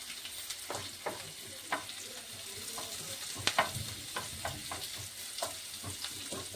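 Chopped onion frying in oil in a pan, with a soft continuous sizzle broken by irregular scraping strokes and clicks as it is moved around.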